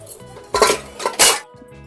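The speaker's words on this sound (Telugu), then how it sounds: "ఇప్పుడు డీప్ ఫ్రైకి ఆయిల్ పెడతా." A pan is set down for deep-frying oil: three loud metallic clanks and scrapes of cookware close by, separated by short quiet gaps.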